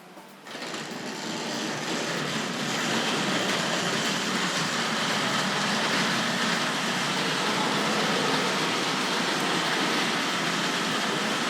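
A steady, continuous rumble and rattle of a Tri-ang and Hornby Dublo model train running along an elevated track, constant and fairly loud with no talking.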